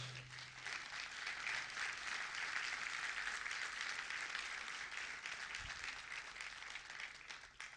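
Sustained applause from a church congregation, a broad, steady wash of many hands clapping that stays even for several seconds and fades slightly at the end.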